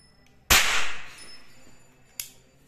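A homemade match gun fires with one sharp, loud crack followed by a short hiss, then a second, fainter snap about two seconds later; nobody speaks.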